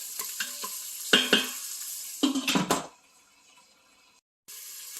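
Onion and Scotch bonnet pepper frying in oil inside an Instant Pot, heard as a few clattering stirring scrapes and crackling sizzle bursts, with quiet stretches between and a brief silent gap near the end.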